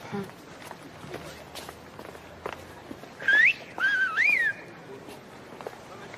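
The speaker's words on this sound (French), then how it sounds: "Qui a sifflé?" A person whistles a few short notes, a quick rising call and then a wavering tune, over footsteps and faint background noise.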